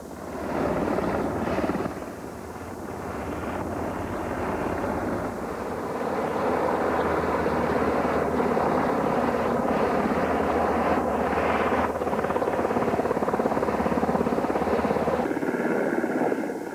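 A loud, sustained roar of military troop-transport helicopters flying overhead, engines and rotors blending into a heavy drone that swells and holds.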